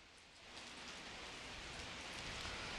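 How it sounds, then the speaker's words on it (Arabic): Heavy rain falls during a street protest in Algeria, a dense, steady hiss of drops on the ground that stays even and fairly faint with no voices heard. "أجواء غائمة ممطرة، أمطار يعني غزيرة جدا"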